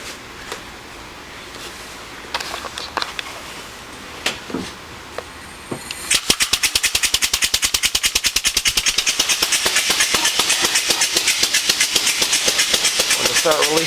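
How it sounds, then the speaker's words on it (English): On a homemade biodiesel processor, a few scattered knocks and handling noises come first, then the pump starts midway with a loud, fast rhythmic pulsing chug that keeps on steadily. "And now we're just going to turn on the pump."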